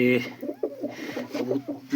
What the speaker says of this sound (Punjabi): ਚਿੱਟੀਆਂ ਅੱਖਾਂ ਦੀ ਕਬੂਤਰੀ ਆ